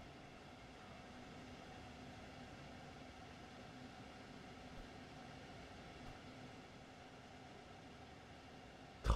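A train rolls through the Duisburg rail yard approach in Train Sim World 3, RE 6 route, giving a steady low rumble with faint rail noise throughout, fairly quiet and even, with a brief louder burst at the very end.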